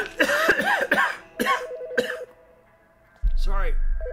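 In the video game As Dusk Falls, a character coughs a few times to cover a noise, mixed with tense voiced lines, followed by a low mechanical rumble.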